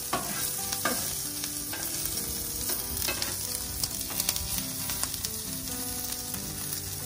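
Brisket sizzles and chars on a Blackstone griddle, a dense, steady crackling hiss up close, dotted with quick scraping clicks of a spatula moving the meat, with no one speaking.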